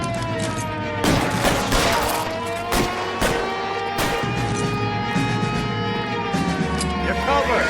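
Video game gunfire in bursts, with sharp shots clustered near the start and scattered through the rest, loud and close, with voices talking between the shots.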